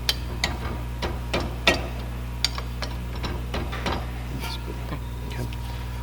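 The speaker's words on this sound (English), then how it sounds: "we're using a 12mm to take off the caliper bolt underneath" A 12mm socket ratchet works a brake caliper bolt on a 2008 Honda Fit, giving a series of close, irregular metallic clicks and taps over a steady low hum.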